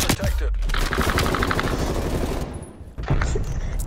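Fast SMG gunfire in Call of Duty on the Nuketown map, a dense close-range rattle of rapid shots that briefly dips, then resumes with more bursts.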